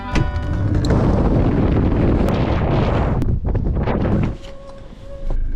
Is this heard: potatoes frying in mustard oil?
no